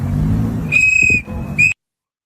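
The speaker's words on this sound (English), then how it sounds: "with another rape whistle." Rape whistle blown in two shrill, piercing blasts, the first longer and the second short, loud and close, ending abruptly into silence.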